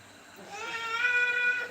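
A single drawn-out cat meow, rising and holding steady, fairly close and moderately loud with faint background noise.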